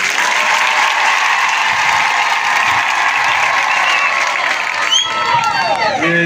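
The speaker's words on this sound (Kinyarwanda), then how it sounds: "amashyi menshi y'amashami" Dense, steady applause rolls from a large crowd at a public gathering in Minembwe, loud and unbroken, with a voice and some commotion rising near the end.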